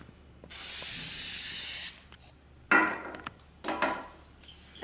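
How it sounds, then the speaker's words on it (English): Spray adhesive from an aerosol can hissing onto the backs of paper spreads, one long steady burst followed by two shorter, sharper bursts with brief pauses between, close and fairly loud. "on the back of that, we're going to spray adhesive it."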